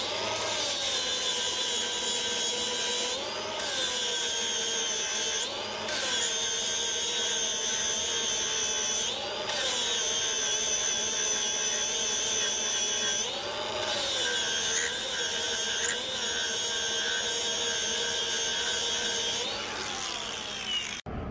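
Steady high-pitched whine of a power grinder grinding down metal on a Caterpillar RD-4 transmission and rear end cover, running continuously with brief dips in pitch as pressure changes, loud and close.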